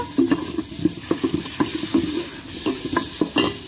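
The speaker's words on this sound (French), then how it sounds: "ma petite branche de thym que j'ai rajouté avec tous les épices que j'avais, que je fais revenir pour faire sortir leur parfum" Onion, celery, a sprig of thyme and spices sauté in a pan for couscous, with a light sizzle under brisk, rhythmic scraping and stirring strokes from a utensil, close and clear, with no voices.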